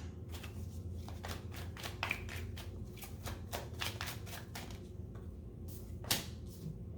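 Tarot cards are shuffled and drawn by hand, producing a quick series of soft, papery riffles and snaps at an irregular rhythm, close and fairly quiet.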